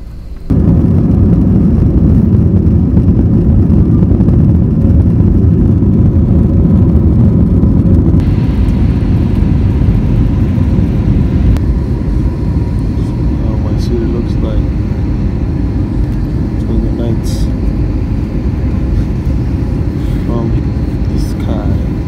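Steady, loud engine roar inside an airplane cabin during a flight to Boston, a continuous low rumble that persists throughout while a voice speaks over it.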